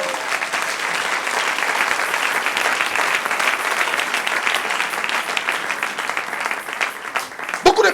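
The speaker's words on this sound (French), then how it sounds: "Donnez une bonne main d'acclamation à Dieu." A church congregation at a Sunday worship service bursts into sustained, dense applause that holds steady and loud throughout, with a few sharper claps near the end.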